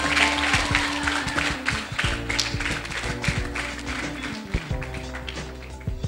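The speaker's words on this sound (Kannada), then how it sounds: "ಜೋರಾದ ಚಪ್ಪಾಳೆಯೊಂದಿಗೆ ಕರೆಯೋಣ ನಮ್ಮ ಪ್ರಿನ್ಸಿಪಲ್ ಶ್ರೀ ಉಮೇಶ್ ಕರ್ಕೆರ ಅವರನ್ನ" College students clap loudly to welcome their principal on campus, a sustained round of applause with sharp taps and steady tonal music running underneath.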